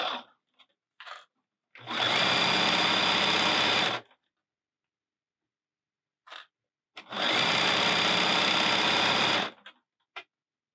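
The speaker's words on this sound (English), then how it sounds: "I'm just going to sew it at 1/4 inch." A sewing machine stitches a 2-inch strip of fabric at a quarter-inch seam in two loud, steady bursts of about two seconds each, separated by silence and small handling clicks.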